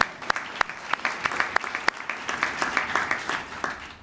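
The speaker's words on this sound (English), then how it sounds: "My notes don't say applause here, but I'm going to go ahead and add it" A crowd at the 2019 Kentucky Governor's Service Awards claps in a dense, steady burst of applause, with sharp individual claps standing out over the rolling sound, without talk.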